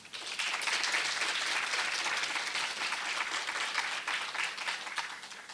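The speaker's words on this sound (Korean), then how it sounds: "큰 박수 부탁드립니다." Audience applause welcomes new students at a university graduate school entrance ceremony: sustained, even clapping from a large hall crowd, moderately distant and steady throughout.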